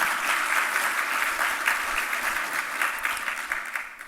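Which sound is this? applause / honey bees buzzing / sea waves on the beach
applause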